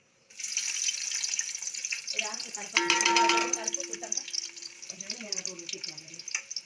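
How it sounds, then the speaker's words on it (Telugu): Marinated chicken dropped into hot oil alongside fried onions for a home-made chicken biryani, with a watery hiss and sizzle that swells as the pieces go in, running on under a voice talking nearby. "ఇప్పుడు ఫ్రై చేసుకున్న ఆనియన్స్ పక్కన తీసుకొని అందులోనే మ్యారినేషన్ చేసుకున్న చికెన్ వేసుకుంటున్నాం"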